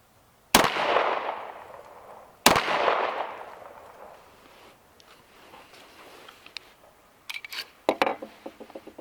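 Two loud, sharp gunshots from a 10mm pistol, about two seconds apart, each with a long echoing decay, followed by a cluster of lighter clicks and clatters near the end.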